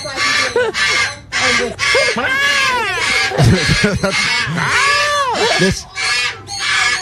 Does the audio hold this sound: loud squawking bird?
yes